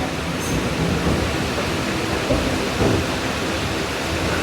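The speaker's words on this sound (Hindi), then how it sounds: "एक और ट्रेन गुजरती हुई विद्यासागर सेतु को नीचे से पार करती हुई हमारी ट्रेन जा रही है" A Kolkata Circular Rail train passing beneath the Vidyasagar Setu bridge: a loud, steady, broadband rumble and roar that fills the whole clip without letup.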